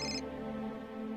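A phone rings briefly and quietly with a tonal electronic chime, signalling an incoming video call in a home scene of a Marathi TV serial.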